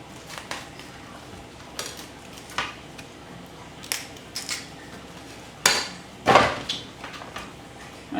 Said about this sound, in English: I could take a head of cauliflower, just chop this bottom stuff off.